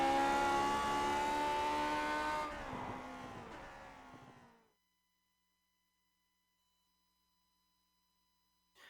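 A race car drives a lap of the Donington Park national layout in the Grand Prix Legends racing game, its engine note droning loudly and shifting pitch before fading away into silence midway through.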